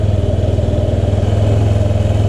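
A 2005 Honda Metropolitan scooter's small engine idles steadily right after a fuel pump swap, close and loud with an even, rapid putter and no voices.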